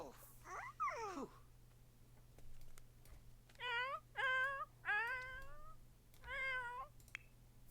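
Cats meow in a Sims-style life-simulation video game: a gliding cry early on, then a run of four distinct, tonal, fairly loud meows spaced by short gaps over low steady background hum.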